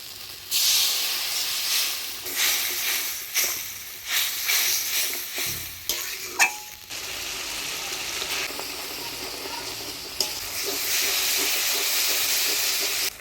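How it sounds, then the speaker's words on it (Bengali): Spice paste cooking down in a pan with a little water added, giving a loud hissing, steamy sizzle that surges and eases in waves, with a few clinks of a utensil partway through. "এবারে অল্প জল দিয়ে মশলাটা ভালোভাবে কষিয়ে নেব"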